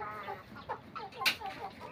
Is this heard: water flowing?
no